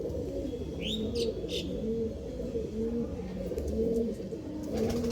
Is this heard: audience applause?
no